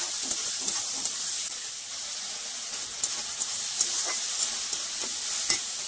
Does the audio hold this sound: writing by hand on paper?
no